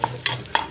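Bottle gourd ingredients lightly sautéed and stirred in a pan: two or three quick, close spatula scrapes and clinks over a faint background sizzle.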